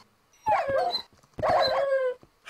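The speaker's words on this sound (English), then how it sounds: "Oh, my dogs are having a bad time." Minecraft dogs whimper and whine in video game audio, two drawn-out, high-pitched yelping cries separated by a short pause, with a third starting at the end.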